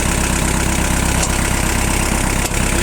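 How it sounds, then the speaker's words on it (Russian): A Kubota L46 four-cylinder mini tractor engine idles close by, a steady, even low thrum with a rapid regular pulse and no voices. "Уже запущен, мотор работает."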